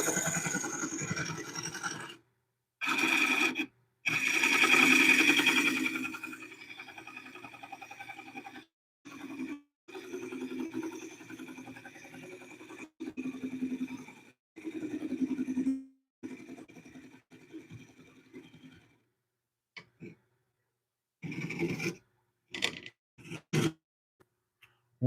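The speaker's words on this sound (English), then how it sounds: "I like to start using my scraper and get the bottom all smoothed out and looking nice." A scraper smoothing the bottom of a wooden bowl spinning on a lathe, a steady raspy scraping in long passes broken by short pauses, close and moderately loud, with no speech.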